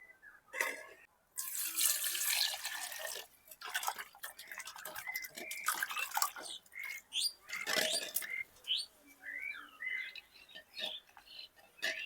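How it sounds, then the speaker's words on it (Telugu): A lemon-sized lump of tamarind is rinsed by hand in a bowl of water for tomato rasam, with irregular close splashing and sloshing bursts, light drips and faint chirps in the background. "నిమ్మకాయ సైజ్ అంత చింతపండునే కడిగి నానబెడతాను"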